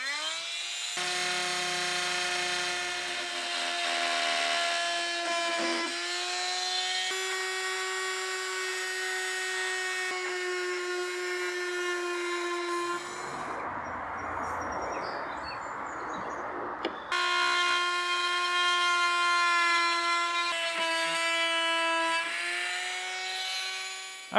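A power tool whines loudly and steadily through a cut in a rotten tub panel, trimming an inch off the top, its tone shifting as it bites, with a brief rougher burst partway through before the steady whine resumes.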